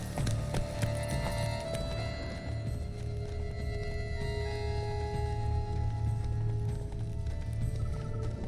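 Rapid, rhythmic hoofbeats of a horse galloping in The Witcher 3: Blood and Wine, steady and close for the whole stretch, over a dense droning background.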